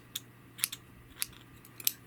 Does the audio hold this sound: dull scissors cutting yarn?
yes